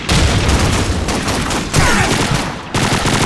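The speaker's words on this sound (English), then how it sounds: "how many grenades y'all gonna friggin' throw?" Loud, near bursts of gunfire and grenade explosions in Call of Duty 2, a dense rattling fusillade broken by short gaps and heavy blasts, with no talk.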